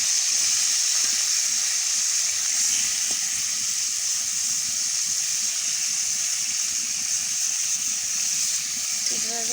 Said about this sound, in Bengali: এরপর এইভাবে আমি কিছু সময় কষিয়ে নেব।